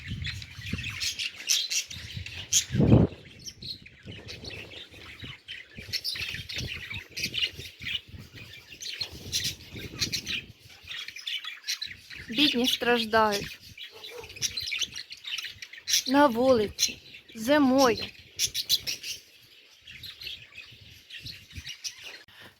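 Budgerigars chirp and squawk in quick bursts, with warbling calls rising in several clusters over steady background chatter, and a person speaks briefly near the start.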